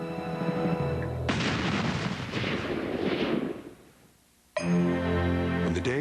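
Cannon fire in a battle: deep booming blasts with rumbling echoes, loud and close, fading briefly before another sharp boom cuts in.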